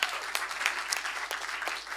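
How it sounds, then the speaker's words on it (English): Applause from an audience at a startup pitch event, a dense steady patter of many hands clapping for the full two seconds with a few sharper individual claps standing out, at moderate level and no talking. "you should have an applause"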